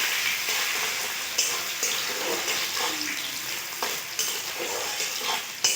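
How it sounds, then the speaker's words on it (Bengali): Chopped onions frying in a pan for a mutton curry, stirred with a utensil: a steady close sizzle with soft scraping strokes recurring throughout, no talk. "পেঁয়াজগুলো একটু নাড়াচাড়া করে নেব।"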